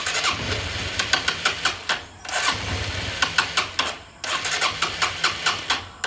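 A vehicle engine in cold December weather cranks repeatedly without catching, a rhythmic starter whir in three close, loud attempts separated by brief pauses.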